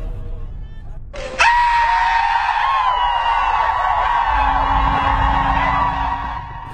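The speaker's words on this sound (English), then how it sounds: "The free Olowan War Cry noise demo happened on my seventh day awaiting extradition" A sudden loud, high sustained war cry rises over a murmuring protest crowd and holds for several seconds, with other voices wavering beneath it.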